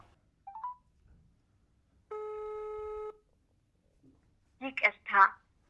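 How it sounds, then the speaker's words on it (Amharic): A phone call's ringing tone sounds once as a clear, steady electronic tone lasting about a second, followed by a brief moment of quiet and then a few spoken words. "እስኪ ደውሉለት በእርሶ ስልክ።"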